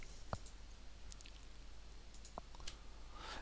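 A computer mouse clicks with the Alt key held down while a dimension is selected: a few faint, sharp single clicks spaced apart over quiet room hiss, with no talking.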